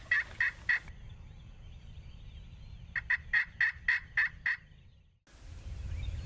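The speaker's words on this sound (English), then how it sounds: "The turkey started gobbling as the first few rays of light kissed the horizon." Wild turkeys gobble at first light during a spring hunt, with a triple gobble up front followed by a longer rolling burst of about eight notes. The calls are clear and moderately near over a low outdoor rumble.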